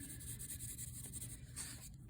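A pencil steadily colors a second shading layer onto paper, giving a continuous close scratchy rubbing that runs unbroken throughout against a soft background hiss.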